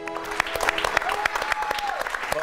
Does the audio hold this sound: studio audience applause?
yes